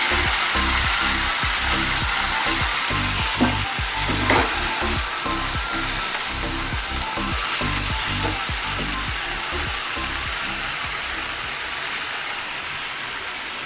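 Cumin seeds and dried fenugreek leaves frying in a pan for garlic methi, a steady loud sizzle throughout with faint stirring scrapes and no talk.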